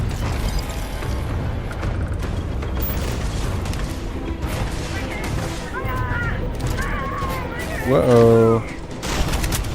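Pirates open fire in the video game Starfield: bursts of gunfire and heavy weapon blasts crackle steadily through a busy combat soundscape, with a person briefly exclaiming over the din.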